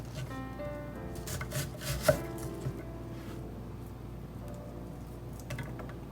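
A knife dices an onion on a cutting board, giving a faint, steady run of soft chopping taps and rubbing strokes with one sharper knock near the middle, no talking.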